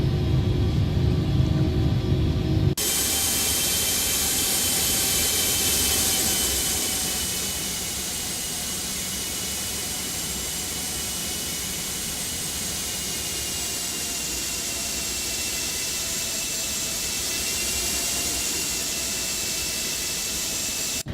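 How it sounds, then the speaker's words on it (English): Wing flaps moving on a Gulfstream 550 business jet in a flight simulator game: a loud, steady, broad roar and hiss. It starts with a heavier low rumble, then settles into an even drone that runs on without a break. "Here we have the sound of the flaps."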